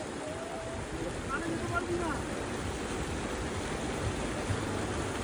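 A waterfall stream crossing a hillside footpath on a Kolkata to Sikkim trip rushes in a steady broadband wash, fairly close, with a person speaking briefly over the water.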